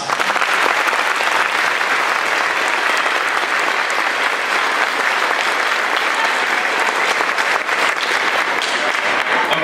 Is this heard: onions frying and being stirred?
no